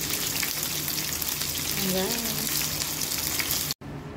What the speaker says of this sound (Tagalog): natapos ko ng prito guys